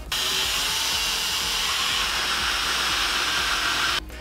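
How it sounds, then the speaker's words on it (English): A power drill drives screws to fasten legs onto a garage parts organizer storage cabinet, a steady loud whirring held for about four seconds before stopping abruptly, with no talking. "Now we're gonna screw it in."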